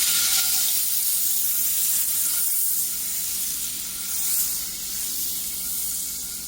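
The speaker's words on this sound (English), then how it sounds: "I just added a little piece of butter here in my skillet." A small piece of butter sizzles and hisses steadily in a hot skillet on a stove, a bright, close frying crackle that fades slightly toward the end.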